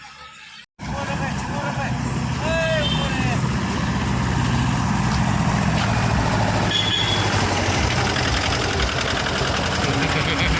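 A tractor engine runs steadily while towing a Scorpio, a loud, continuous rumbling drone close by, with voices and crowd chatter under it.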